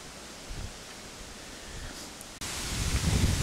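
Wind buffets the microphone with a broad, rushing roar that swells louder partway through; no voices.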